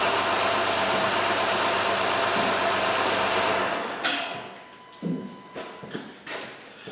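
A Honda van engine idles steadily and loudly up close, then is switched off partway through, leaving a few faint clicks and knocks in the quiet afterward.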